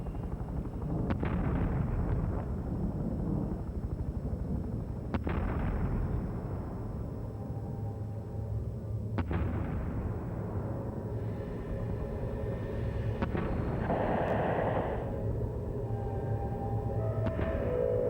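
Artillery shells bursting during the siege of Phnom Penh in 1975: several heavy booming impacts at intervals, each with a long rumbling decay, over a continuous low roar, with no voices.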